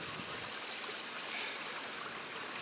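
Water trickles steadily through an indoor stream built into a retail store, a continuous bright hiss and babble, moderately close, heard alone without talk.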